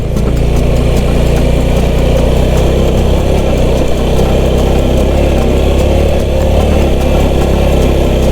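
A vehicle's engine labours in first gear up a steep mountain road on the Suan Phueng to Khao Krachom route in Thailand, a loud, steady, close drone that holds unbroken throughout with no talk.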